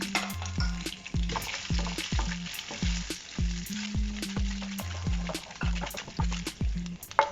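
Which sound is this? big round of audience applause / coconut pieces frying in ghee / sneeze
coconut pieces frying in ghee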